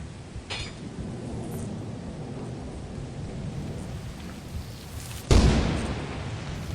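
A thunder and lightning storm in the video game Lethal Company: steady rain hiss and low rumble, then a sudden loud, close thunder crack that rolls on to the end.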